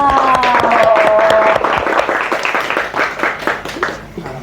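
A studio audience on an Indonesian talk show claps loudly to welcome a guest, an energetic, continuous burst of applause with a faint tonal jingle early on, then thinning out toward the end.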